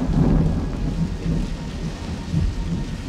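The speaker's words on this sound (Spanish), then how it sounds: "En el Tecpan todos se protegían de la lluvia." Heavy rain pours over a lagoon and valley during a thunderstorm, with a continuous loud wash of rainfall and deep rolling thunder rumbling beneath it.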